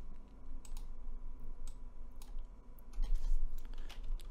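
Close, fairly quiet typing on a computer keyboard, a run of irregular light key clicks with a brief denser burst near the end and no talking.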